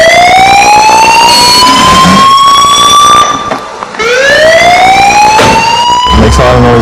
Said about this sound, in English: Authorities suggest homeowners install audible alarms that actually make noise.